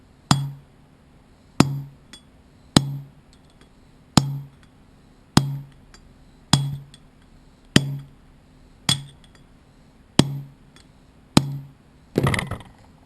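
A hammer strikes a bearing inner race being driven into a boat trailer hub, a regular series of about eleven sharp metallic clinks spaced just over a second apart, each ringing briefly, ending in a rapid cluster of blows.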